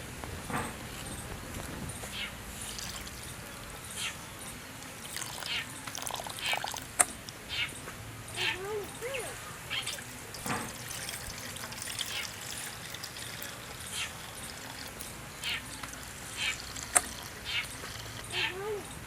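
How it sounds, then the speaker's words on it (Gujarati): Urad dal being washed by hand in water over a village wood-fired stove, with soft sloshing and trickling and small splashes repeating irregularly throughout at moderate level. "તે આપણે હવે અડદની દાળ ધોઈ નાખશું"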